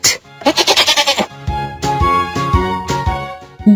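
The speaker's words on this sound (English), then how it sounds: "Goat." A cartoon goat from a children's animal puzzle game bleats in a loud, wavering run of quick pulses, then a second longer, sustained bleat follows, clear and close with no talk over it.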